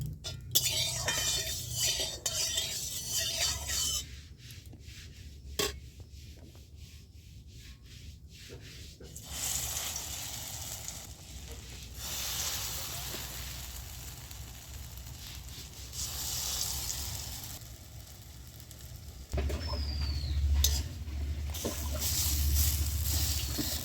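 Palta (pointed gourd) leaf fritters are dropped one by one into hot white oil in a karahi, giving a steady broad sizzle throughout, with occasional scraping and metallic clinks of utensils and no voices.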